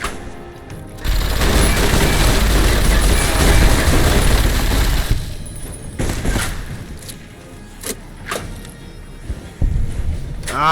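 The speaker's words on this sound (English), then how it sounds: "Come on, minigun." A minigun fires in the video game Fallout New Vegas, a loud, dense continuous roar lasting about four seconds, then a quieter stretch with scattered sharp reports.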